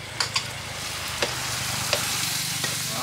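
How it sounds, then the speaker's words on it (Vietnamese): Fish and shrimp fry in a pan, giving off a steady close sizzle with occasional sharp crackles and pops and the light scrape of stirring. "Thì nó xèo xèo luôn."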